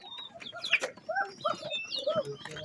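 Many pigeons packed into a small, crowded loft coo and flutter close by in overlapping, irregular bursts of soft bird calls, with no one speaking.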